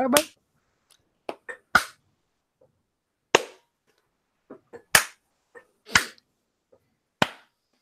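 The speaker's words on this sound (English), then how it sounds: "Come on, do another clap." Sharp isolated hand claps, about eight spaced irregularly over several seconds, close and fairly loud with silence between them.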